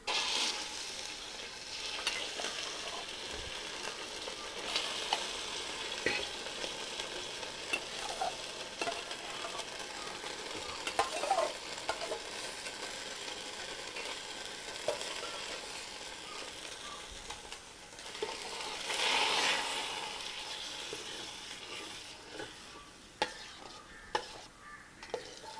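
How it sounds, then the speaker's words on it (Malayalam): Soaked, cooked sago fries in ghee while a spoon stirs it, giving a soft hissing sizzle with scattered scraping strokes and a louder burst of stirring partway through, fairly quiet and close. "ഇത് നെയ്യിലിട്ട് ഒന്ന് വേവിച്ചെടുക്കാം."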